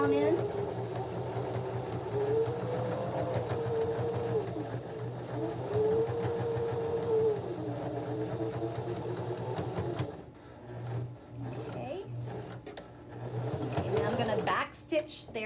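A sewing machine stitches fabric for a gift bag through a thick area with a steady close mechanical whir and rapid needle rhythm that slows and pauses partway, then resumes briefly as someone talks.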